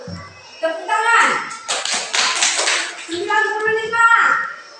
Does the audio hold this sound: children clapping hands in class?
yes